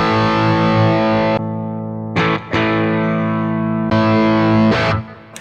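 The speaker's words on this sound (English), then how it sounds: "if I play a chord and hold that chord and change a patch," Distorted electric guitar chord held and ringing through a Boss GT-1000 while patches switch, the tone changing abruptly several times with brief bursts of brighter sound, then fading at the end.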